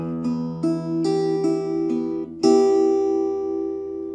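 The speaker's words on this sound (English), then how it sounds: "outro sounds like this." Fingerstyle guitar plays the Stalker outro: a few plucked notes rising through a chord, then three strings struck together and left ringing, close and solo.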